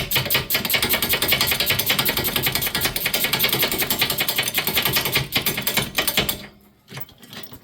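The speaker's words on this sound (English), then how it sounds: "So I can get in here with a ratchet wrench behind here, just to make it a little bit easier on myself." A ratchet wrench works a bolt loose on the rear wheel hub of a Chevrolet Lumina during a wheel bearing replacement, giving rapid, continuous metallic clicking up close that stops abruptly near the end.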